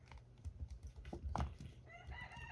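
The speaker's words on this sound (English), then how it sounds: "The chickens all say hello." Chickens cluck and call faintly in the background of a workshop where resin is being edged, mixed with tapping and clattering close by.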